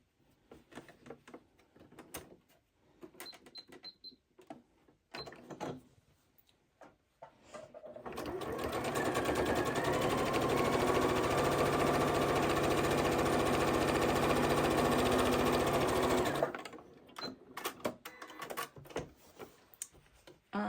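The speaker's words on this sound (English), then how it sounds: "you're just going to stitch from corner to corner" A Janome 8200 QCP sewing machine stitches a straight diagonal line corner to corner across a fabric bowl cozy, its loud, steady motor hum running continuously for several seconds before stopping, with quieter handling clicks before and after.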